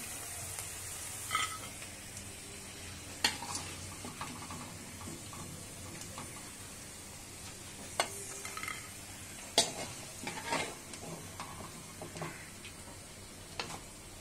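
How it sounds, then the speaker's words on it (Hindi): Potato pieces deep frying in hot oil for honey chilli potato give a steady, faint sizzle, broken by occasional sharp clicks and taps of a utensil stirring the pan. "अब हम इन्हें अच्छी तरह से डीप फ्राई कर देते हैं"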